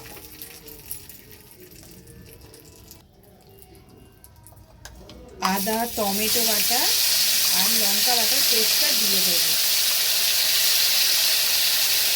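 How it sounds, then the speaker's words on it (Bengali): Quiet kitchen background, then spices hit hot oil in a wok with a little salt added, a sudden loud, steady sizzle that stays strong to the end while a voice talks over it for a few seconds. "এবার আমি এই কড়ার তেলের মধ্যে অল্প পরিমাণে নুন দিয়ে দিয়েছি যাতে মশলাটা না ছিটকায়"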